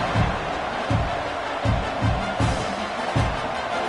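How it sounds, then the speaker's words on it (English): A college football stadium crowd roars steadily before kickoff at an OU versus ULM game, a dense wash of cheering and noise with rhythmic surges. "They're set to kick it off, and this crowd now ready to get behind them."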